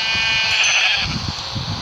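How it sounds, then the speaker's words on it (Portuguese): Sheep in the video game Minecraft bleating, a loud close wavering cry lasting over a second, followed by softer game noises underneath. "Cadê a ovelha? Olha aqui."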